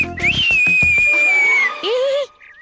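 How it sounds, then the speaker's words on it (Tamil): A person gives a long, loud two-tone whistle, rising then holding steady before a second upward swoop, with brief clattering and voices around it in a Tamil TV drama scene. "விசில் அடிக்கிறமா?"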